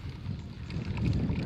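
Wind blows on an outdoor golf course as a steady low rumbling roar of gusts against the microphone. It swells slightly toward the end and nobody talks.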